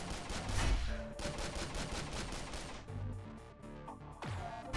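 Enemy gunfire in a video game demo, a dense continuous barrage of shots and impacts that stays loud throughout and thins slightly toward the end, with no speech.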